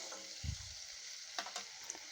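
Broiler chicken pieces frying in oil for a curry with jackfruit produce a soft, close sizzle, broken by a dull knock and scraping of stirring early on and a few faint clinks later.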